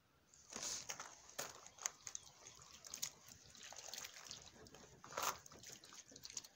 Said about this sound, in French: Maintenant, je vais rincer.